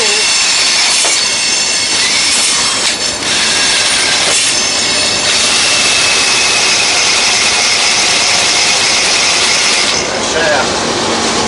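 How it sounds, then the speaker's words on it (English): A lawnmower transaxle spins with a loud, continuous, harsh mechanical grinding and whine that holds steady throughout. "Transaxle works. It is indeed spinning."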